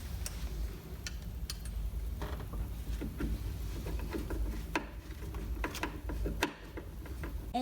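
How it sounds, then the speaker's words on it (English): A screw is driven in by hand while mounting a door closer, giving a run of small clicking, ratcheting ticks spread across several seconds in a quiet room. "So I'm gonna go ahead and screw the top screw in just to get things started."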